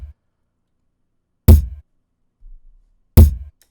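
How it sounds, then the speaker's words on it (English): Two deep, punchy kick drum hits of a simple intro beat land about two seconds apart, with a faint low thump between them and silence around. "we have the intro kick, which is just plays very basically like this."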